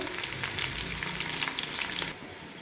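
Onions sizzle in hot oil while being stirred for chicken pulao, a close, steady crackle and hiss with scraping stir strokes, easing slightly toward the end.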